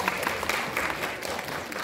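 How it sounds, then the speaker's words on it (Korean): Audience applause for elementary school students at a school music competition, a short, dense patter of clapping at moderate level filling the whole moment. "대전 동상초등학교 학생들에게 다시 한번 격려의 박수 부탁드립니다."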